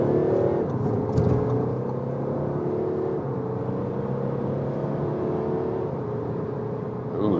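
Audi A4 S-Line sedan in sport mode accelerating hard from 50 km/h, heard from inside the cabin as a steady rising engine drone and whir with road rumble, loud and continuous with no speech.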